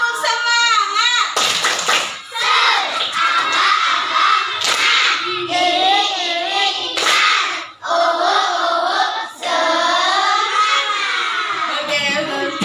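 Schoolchildren in a morning class chant loudly and clap rhythmically together, with voices shouting in unison between sharp claps throughout.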